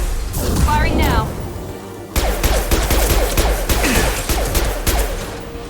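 Weapons firing in the video game Mass Effect 2, dense bursts of rapid shots with booming impacts over game voices, a brief pause before the firing resumes hard and loud.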